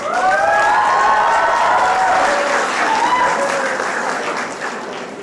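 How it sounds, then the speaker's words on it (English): A graduation ceremony crowd for the Class of 2022 breaks into loud, sustained applause for the school, dense clapping mixed with some cheering and a brief voice early on, holding steady and easing slightly toward the end. "we owe a huge round of applause to the school"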